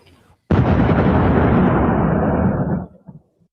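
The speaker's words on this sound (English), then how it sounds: "a loud explosion. It sounded like a house blew up." A single loud explosion boom at night in Hopatcong, New Jersey, bursts in suddenly and rolls on for over two seconds before fading out, like a house blowing up.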